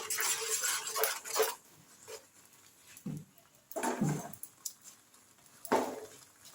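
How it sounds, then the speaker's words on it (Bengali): Semolina simmering in a pan while being stirred continuously, heard as intermittent scraping and clinking bursts of a spoon against the pan, close and moderately loud, with quiet gaps between strokes and no talking. "সুজিটা দেখো সুন্দর সেদ্ধ হয়ে যাচ্ছে। অনবরত এই সময় নেড়ে যেতে হবে।"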